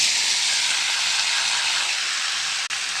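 Bay leaf, panch phoron, dried chili and ginger frying in hot oil, a loud, steady, bright sizzle that continues unbroken at close range, with one brief click near the end.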